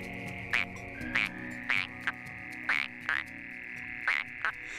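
Frogs and toads croak at a pond in a steady rhythm, with sharp, bright calls repeating about every half second over a low, continuous chorus, nearby and fairly clear with no voices.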